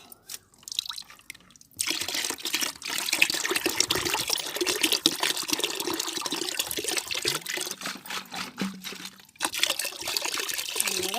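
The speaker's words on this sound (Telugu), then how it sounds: "ఆ తర్వాత ఈ మిగిలిన నీళ్ళు కూడా వేస్తున్నా" Water is poured from a container into a bucket, a loud, continuous splashing stream starting after a short quiet pause and running nearly unbroken, with a brief dip near the end.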